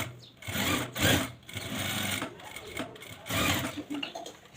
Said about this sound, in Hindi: इस तरह से पैर की सिलाई लगा लेनी है इस पर साइड।